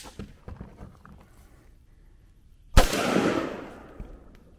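A single sharp shot from a 300 Blackout rifle firing Hornady TAP 110 grain ammunition, a loud crack with a brief decaying tail outdoors, with quiet scattered noises before it.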